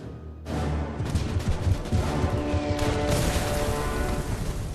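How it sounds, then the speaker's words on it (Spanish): 105 mm howitzer artillery fire rumbles in a dense, continuous barrage of booms and blasts. It is loud and close, with no voices. "El obús de 105 milímetros era una de las armas más importantes del arsenal de Estados Unidos."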